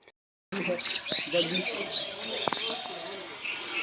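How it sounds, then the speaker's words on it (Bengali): Birds calling and chirping outdoors on a village morning, steady layered twittering with a few louder close calls and occasional cooing, starting after a brief quiet moment. "সকাল সকাল পাখির আওয়াজ শুনতে অনেক ভালো লাগে"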